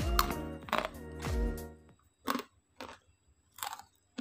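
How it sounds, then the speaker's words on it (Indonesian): Crunchy fried onion sticks flavored with celery and garlic are bitten and chewed close to the microphone. A few sharp, separate crunches follow a short stretch of talking. "Saya akan cicipin dulu stik bawangnya."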